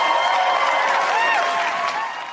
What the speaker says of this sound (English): Can I stop and clap real quick for Mike Matthews?